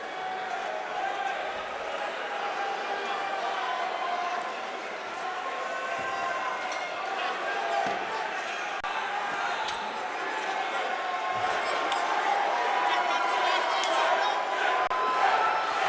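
Arena crowd at an MMA fight chanting "Dre" during the third round, a dense continuous roar of voices with rhythmic chanting and occasional thumps throughout.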